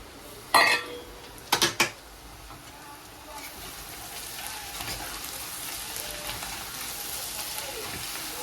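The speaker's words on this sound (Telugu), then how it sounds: "ఇందాక వేయించి పెట్టిన అరటికాయలు వేసేస్తాను, అరటికాయ ముక్కలు." Fried raw banana pieces tipped into a pan for a tamarind curry, opening with a few loud metallic clatters of a vessel and spoon, then a steady close sizzle and stirring that continues to the end.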